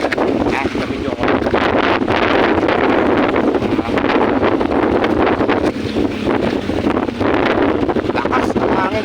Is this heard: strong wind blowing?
yes